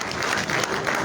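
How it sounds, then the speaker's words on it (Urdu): A short burst of audience applause at an MQM Pakistan shadow budget presentation, a dense, steady wash of clapping from a crowded room heard alone for about a second. "میرے خیال میں اس پر بھی تالیاں ہم بجا دیں"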